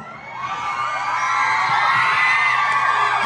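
A school audience at SMK Pasundan 1 Bandung cheers and shouts, with many young voices yelling and whooping in a loud, swelling roar that builds and holds steady.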